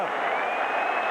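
Stadium crowd of New York Jets fans applauding Joe Namath during a ceremony at a Jets home game against the 1985 Miami Dolphins, a steady, dense wash of clapping and cheering that holds level throughout.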